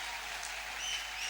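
A church conference crowd claps for the Lord at a twentieth-anniversary celebration, a brief, dense wash of steady hand claps filling the hall without a break.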